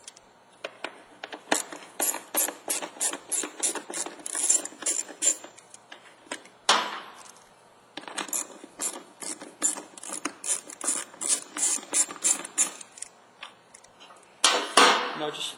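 A 1/4 inch socket ratchet backs out two tail light screws on a Chevy Tahoe, giving long runs of fast, even clicking, close and fairly crisp, broken by brief pauses and a few louder scrapes.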